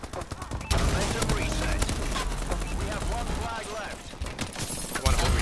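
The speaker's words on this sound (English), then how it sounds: "Oh, it's a laser gun." A laser gun fires in Call of Duty: Advanced Warfare as a loud, rapid stream of zapping shots that runs almost continuously for several seconds, with game effects behind it and brief gaps near the start and end.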